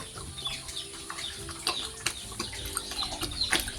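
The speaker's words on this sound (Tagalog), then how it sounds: "mga manok ko, nandiyan pa rin yung mga manok" Chickens cluck and call softly around a Filipino backyard farm where a pregnant pig is kept, brief clucks scattered over a steady low hum with a few wing flaps, no talking.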